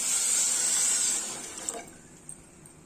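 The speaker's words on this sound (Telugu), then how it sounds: "షుగర్ వేసేసి ఇదిగోండి ఒక గ్లాస్ వాటర్ పోస్తున్నా" A glass of water poured into a pan of sugar to make syrup for double ka meetha, a steady bright splashing rush for over a second that fades into quieter trickles and small drips.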